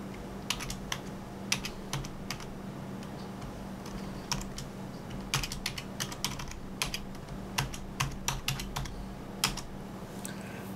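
Someone types a password on a computer keyboard, a steady run of close, light key clicks with small pauses, over a low constant hum.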